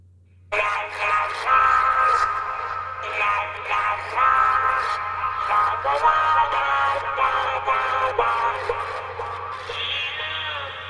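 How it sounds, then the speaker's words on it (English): A layered chorus of squeaky, warbling Furby toy voices sings in harmony, bleating and electronic, over a low steady hum. "Furby chorus, harmony chorus section"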